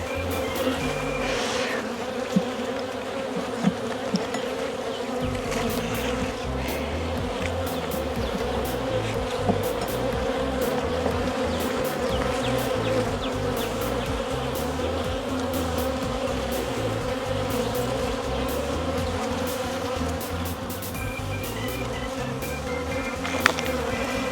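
Honey bees buzz around beehives on a farm during hive equalizing, a dense, continuous swarm drone that stays steady and close throughout with no voices.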